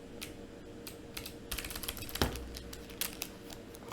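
Quick keystrokes on a computer keyboard, an uneven run of light clicks with a few sharper taps, close and fairly quiet, no voices.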